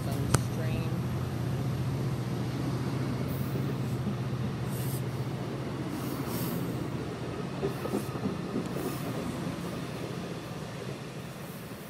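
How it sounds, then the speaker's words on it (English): Amtrak Northeast Regional train number 89 arriving on track 3 at BWI station, with a continuous low rumble and rolling wheel noise at moderate distance while someone talks over it. "The following train coming up on track 3, it was Northeast Regional, number 89"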